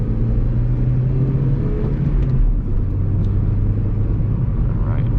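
A 2010 Honda Civic LX-S with a manual transmission drives along a bumpy back road, its engine and road noise forming a steady, close rumble with a slight rise in revs and no talking.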